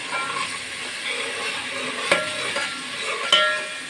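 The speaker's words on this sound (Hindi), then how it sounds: "और हम फ्राई कर लेंगे लहसुन को ताकि लहसुन की स्मेल ख़त्म हो जाए।" Garlic and ginger paste frying in a pan, a steady close sizzle and hiss with a couple of sharp stirring clinks against the pan.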